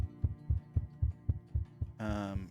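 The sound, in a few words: heartbeat thrumming sound effect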